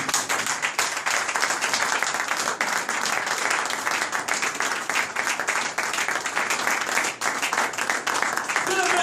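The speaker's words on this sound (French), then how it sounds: "Est-ce que nous pouvons applaudir la parole de Dieu?" Sustained, dense applause from a church congregation fills the space at a steady, loud level for several seconds, with voices mixed faintly into the clapping.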